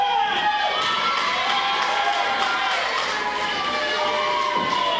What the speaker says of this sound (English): These fans are going crazy.